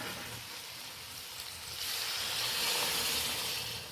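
Water poured into a hot pan of sautéed vegetables and jackfruit seeds crackles and sizzles, a soft broad hiss that swells louder halfway through, close and without talk.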